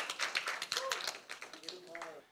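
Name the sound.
audience clapping for Lowell, Elis and Angel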